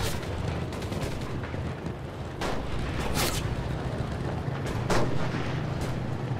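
Constant gunfire and artillery from a WWII battle in the shooter game Enlisted, played on PS5, with booming blasts and sharp shot bursts crowding in from all sides over a dense, loud roar.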